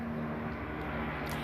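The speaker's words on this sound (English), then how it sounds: "pay attention, that's the helicopter." A helicopter flying overhead gives off a steady, low engine drone with a constant humming tone, moderately faint and unchanging across the short stretch, with no talking.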